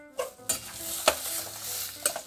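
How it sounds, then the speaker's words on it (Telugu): A spoon stirs mashed raw banana pieces into hot fried tempering in a pan, with a few distinct scraping strokes over a soft sizzle, close and fairly loud. "స్టవ్ ఆఫ్ చేసుకుని మనం కట్ చేసి మ్యాష్ చేసుకున్న అరటికాయ ముక్కల్ని దీంట్లో వేసేసుకుని కలుపుకోవాలి"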